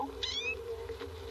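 A kitten meows once in a bright, rising, drawn-out cry, close and clear over a steady low indoor hum.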